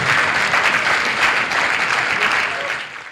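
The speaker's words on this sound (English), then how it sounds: "Let's clap for Jesus." A church congregation applauds steadily, a dense, loud wash of many hands clapping together that tapers slightly at the end.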